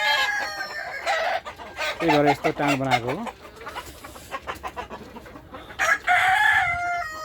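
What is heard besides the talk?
chickens clucking and rooster crowing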